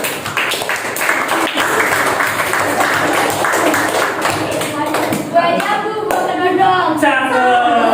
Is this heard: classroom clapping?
yes